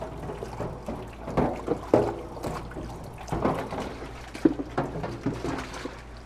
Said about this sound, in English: So now I'm gonna bring this item into the soapy water.